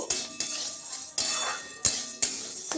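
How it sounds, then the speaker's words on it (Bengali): A spatula knocks and scrapes against a kadai while chana dal is stirred, making several distinct metallic clanks spaced roughly half a second apart, close and fairly loud, with soft rustling between the hits. "একটু কড়াইয়ের মধ্যে নেড়ে নেব"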